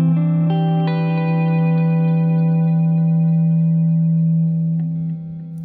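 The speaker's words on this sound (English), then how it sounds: "a delay and reverb plugin meant to be just huge reverbs and delays" A sustained, heavily processed synth tone swells with huge washy reverb and long echoing delay from the Valhalla Supermassive plugin, dense and loud, with a few plucked attacks blooming into the tail.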